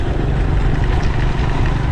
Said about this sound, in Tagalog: Ang bibilisan na ng mga motor dito.